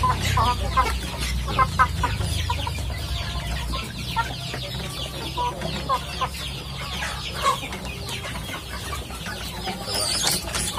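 A flock of chickens cluck steadily and close by while pecking at fermented feed, with roosters and hens vocalizing over a constant low farmyard rumble for the whole stretch.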